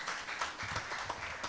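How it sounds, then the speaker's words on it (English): Audience applause for a speaker at a live World Statistics Day 2025 event, a dense spread of moderate clapping sustained evenly throughout without pause. "A round of applause."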